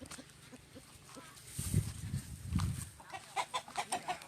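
Poultry on a duck farm in Isan, Thailand, call out in clustered quacks and clucks at close range, growing into a rapid run of loud calls near the end, with faint background voices.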